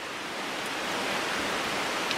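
Spoonauger Falls on the Chattooga River pours as a constant broadband rush of falling water, close and steady for the whole stretch, with no voices over it.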